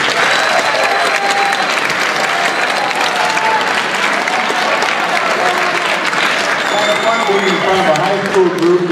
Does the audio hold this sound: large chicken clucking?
no